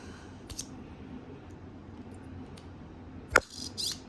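A short, sharp mechanical click from a Daiwa IMZ Limitbreaker fishing reel's brake rings out once amid faint background hiss, followed by a softer clicking burst a moment later.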